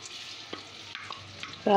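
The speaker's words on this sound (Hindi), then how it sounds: "ये देखिए, ऑयल अच्छे से गर्म हो चुका है। अब इसमें डाल देंगे प्याज" Onions going into well-heated oil in a pan crackle with a steady, close sizzling hiss and a few light clicks of stirring, swelling into a louder burst of sizzle at the very end.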